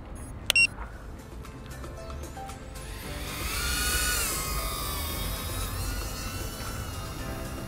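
An Emax Tinyhawk FPV drone spins up and flies, its small motors giving a high, rising whine that swells and then holds steady after a brief click.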